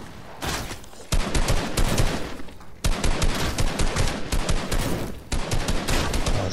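Gunfire in Fortnite, rockets among it, fills the stretch in dense, loud rapid bursts, with short gaps between volleys as the firing stops and starts again.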